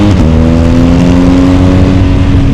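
A BMW R1250GS motorcycle engine runs loud and close, a steady throbbing rev with a slight rise in pitch and no talking over it.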